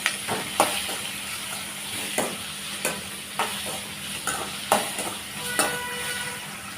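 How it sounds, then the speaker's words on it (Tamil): Five or six garlic cloves and spices sautéing in a pan for a rava dosa meal, with a steady close sizzle broken by about ten sharp spatula scrapes and taps at irregular intervals. "அது கூடவே ஒரு அஞ்சாறு பல் பூண்டு சேர்த்துக்கலாம் எல்லாத்தையும் சேர்த்து நல்லா வதக்கி விடலாம்"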